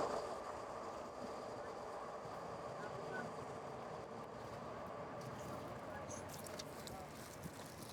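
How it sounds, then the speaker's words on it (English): A passing train makes a continuous low rumble and rolling rattle that holds steady for several seconds, with voices talking over the noise. "Damn train again."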